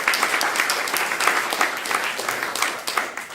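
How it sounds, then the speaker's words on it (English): Audience at a North London People's Assembly against austerity cuts applauds the volunteers and the venue, a dense, steady round of clapping from a full room that keeps going without letting up. "So can we have a round of applause for the volunteers and also for the venue?"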